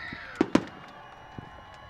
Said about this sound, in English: Hey, you gotta love fireworks.